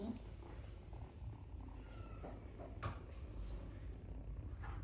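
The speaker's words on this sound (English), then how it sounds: "What a big kitty." A big male cat purring softly and steadily up close, a low continuous rumble against faint room noise, with no talk heard.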